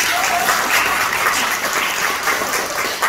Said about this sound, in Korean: 함께 박수로 보내주십시오